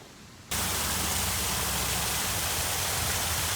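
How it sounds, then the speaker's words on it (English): After a brief hush, a steady, loud rush of a waterfall in a Japanese garden starts abruptly and roars on without pause. "Nice to listen to the sound of the waterfall."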